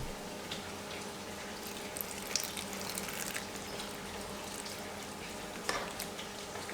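Water poured onto beaten rice flakes (aval) in a home kitchen while making breakfast, giving a steady, soft close hiss and trickle with a few small splashes and no voices.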